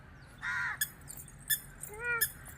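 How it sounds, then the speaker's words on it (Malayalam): A crow caws in a park, giving several harsh calls spaced through the clip, some drawn out and one rising, moderately near over a quiet background. "കാക്ക അങ്ങോട്ട് പറന്നു പോയി കേട്ടോ"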